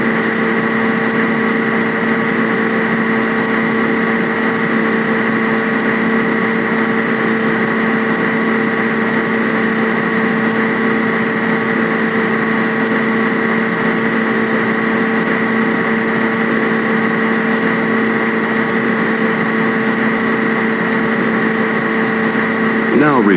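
An aircraft engine in the Flight Simulator X game hums at a steady, unchanging pitch throughout, a loud continuous tonal drone with a voice speaking over it.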